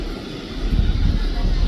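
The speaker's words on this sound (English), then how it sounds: "This is the helicopter about to fly." Helicopter preparing to take off at a Vancouver waterfront, a loud low engine rumble with rising rotor roar and wind buffeting, under someone speaking.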